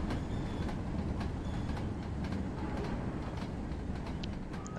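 Train rolling along the track in the video game Train Sim World, a steady loud rumble of wheels with faint clicks and brief squeal accents.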